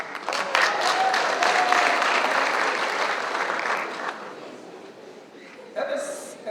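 Audience applause rises at a graduation ceremony, a sustained patter of clapping that gradually thins over several seconds, with a brief burst of other sound near the end.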